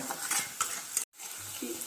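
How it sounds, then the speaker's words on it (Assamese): Onions and chillies frying in a kadai, a soft, close sizzle with scattered stirring clinks and a brief dropout midway. "পিঁয়াজ আৰু জলকীয়াখিনি মোৰ ভজা হৈ গ'ল"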